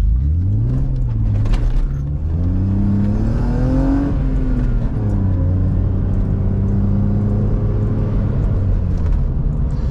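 A BMW E36 car engine drones steadily while driving, its pitch climbing through gears and settling into a loud, even cruise.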